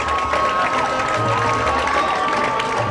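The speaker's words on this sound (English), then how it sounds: "Listen to this crowd as the Tide come racing onto the field" Football stadium crowd cheering and roaring as the team races onto the field for a season opener, a steady, broad wash of noise with a low tone underneath.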